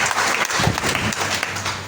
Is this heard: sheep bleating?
no